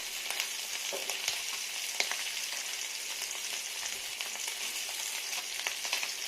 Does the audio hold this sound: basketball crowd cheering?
no